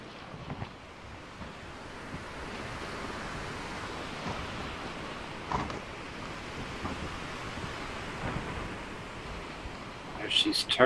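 Wind and surf rush steadily around a sailing ship in the Sailwind game, with a loosened sail flapping in soft bursts amid the broadband noise and brief clatters near the end.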